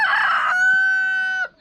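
A single loud rooster crow, close by on the Everest Base Camp trek between Paiya and Phakding, with a rough opening and a long sustained tonal call that cuts off sharply.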